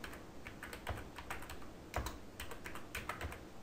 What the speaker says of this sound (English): You can type your description.